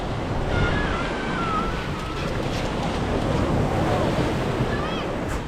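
Waves wash continuously onto Miami Beach at Batu Ferringhi, Penang, a loud, steady roar of surf mixed with gusty wind buffeting the microphone.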